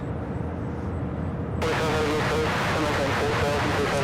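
A Boeing 757 jet at Louisville International Airport, a broad steady roar that suddenly grows louder and brighter partway through, with people talking over it the whole time.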